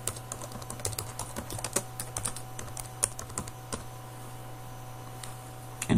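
Someone types on a computer keyboard while entering text into an Excel bar-graph description, a quiet, uneven run of soft key clicks heard up close, then a brief pause near the end.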